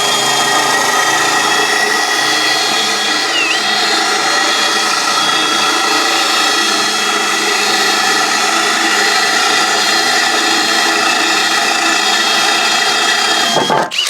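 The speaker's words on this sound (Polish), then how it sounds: "my to wiercimy po prostu to w ten sposób, że zaczynamy sobie to tak" A drill bit bores into a roof tile at high speed, a loud continuous whine with gritty grinding held steady for about fourteen seconds, ending abruptly, with no talking.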